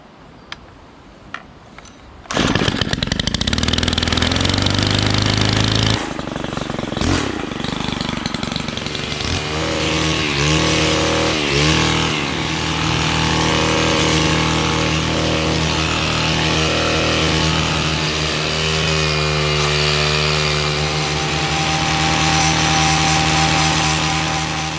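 A small petrol engine, choke on, is started outdoors at a wild camp: a few faint knocks, then a sudden loud catch into a steady, rough high-revving drone that holds for about twenty seconds, wavering slightly in pitch.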